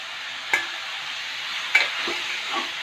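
Bottle gourd and shrimp sauté in a pan with a steady broadband sizzle, punctuated by two sharp spatula scrapes or taps and softer stirring sounds.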